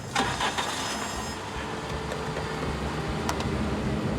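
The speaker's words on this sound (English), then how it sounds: "He's leaving. Start the car." A car engine cranks and catches, then settles into a steady, noisy run that stays loud throughout, with no one talking.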